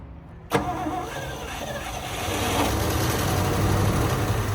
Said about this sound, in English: now that I know it fires up and runs at least a little bit